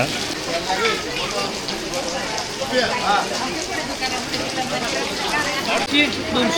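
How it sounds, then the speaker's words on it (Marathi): Dense, steady hiss of rain falling throughout, mixed with an indistinct murmur of voices in the background, in Kolhapur near the Mahalakshmi temple. "इकडे पाऊस चालू आहे सकाळपासून पाऊस चाललेला आहे"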